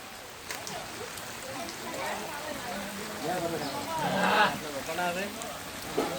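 Rain falls steadily outdoors, a broadband hiss of drops on surfaces under someone talking, growing a little louder midway.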